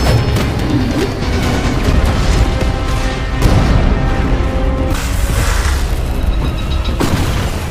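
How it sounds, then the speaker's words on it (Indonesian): Heavy explosions tearing apart an airborne carrier in the film Black Widow: continuous loud booming and crashing rumble with layered blasts and debris, sustained throughout with no pauses. "kapal induk mulai hancur karena ledakan"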